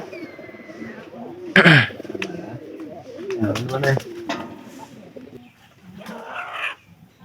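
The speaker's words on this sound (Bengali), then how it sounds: "আমাদের এই যে অতিথি কবুতরটা কিন্তু এখনো যায় নাই" A caged pigeon gives soft, throaty coos in short phrases, heard up close alongside a man's speech.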